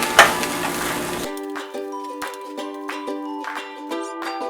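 Turmeric and coriander powder are stirred into a sizzling pan, a brief loud fry giving way to repeated light scraping and metallic clinks of the spoon against the pan.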